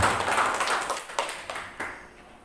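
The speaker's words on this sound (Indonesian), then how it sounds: "Tepuk tangan untuk kita semua." Brief scattered applause from an audience at a large school reunion gathering, a short burst of clapping that thins out into a few separate claps.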